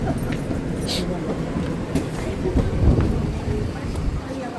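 Steady rain in Japan hisses across the whole clip, with a low rumbling undertone and faint, indistinct voices mixed in.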